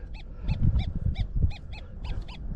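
A repeating electronic warble tone from an XP Deus 2 metal detector pulses about ten times in a steady rhythm over low rumbling background noise, a deeper-sounding signal.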